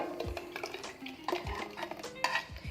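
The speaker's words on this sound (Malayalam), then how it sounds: "എന്നിട്ട് നന്നായിട്ടൊന്ന് മിക്സാക്കി എടുക്കണം" A spoon stirs tomato and green chili paste into chicken stock in a metal pot, with repeated scraping clinks and swirling liquid, close and steady.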